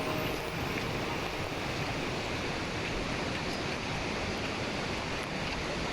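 Kawasan Falls in Cebu, a steady broadband rush of falling water that is continuous and dense, with no breaks and no voices.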